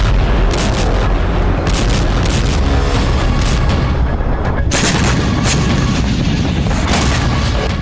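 Explosions from strikes on Russian provinces boom and rumble loudly and continuously, with sharper blasts cracking through the dense roar in the second half.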